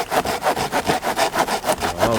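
Hand saw cutting through tree logs on a beach camp, a rhythmic rasping back-and-forth at about four strokes per second, loud and close with no talk.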